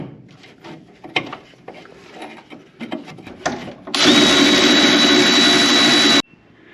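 A power tool spins off the 9/16 nuts holding the brake booster on a 1979 Cherokee. Quiet clunks and handling noises come first, then one loud, steady, whining burst of about two seconds that stops abruptly.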